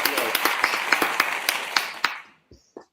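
A small audience gives a short round of applause, with sharp, close claps at a brisk pace that fade out after about two seconds, followed by a couple of faint sounds.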